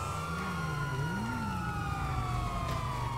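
An emergency siren wails steadily and close, its rising and falling tone sweeping over constant low traffic rumble, with no speech over it.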